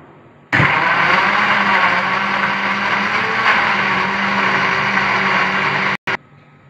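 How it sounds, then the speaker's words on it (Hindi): Blender running at high speed on mango lassi for about five and a half seconds, a loud steady whir that starts abruptly and stops with a brief sputter at the end. "ये ब्लेंड होके स्मूथ हो चुका है"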